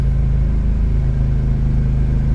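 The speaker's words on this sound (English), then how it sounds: "this one's got quite the vibration when you're idling" A kei truck's small engine idles with a steady low rumble and a noticeable vibration, continuous and close throughout.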